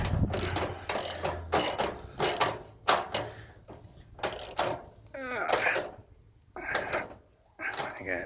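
A ratchet with a long 13 mm socket tightens a leg bolt on a Samsung Bubble Wash WF1702XEC washing machine, giving rapid close clicking in repeated bursts, with a voice heard briefly.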